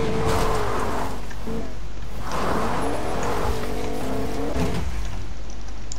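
Pickup truck driving in a video game during a live DreamHack session, its engine revving with rising and falling pitch sweeps and brief tire squeals, loud and continuous throughout.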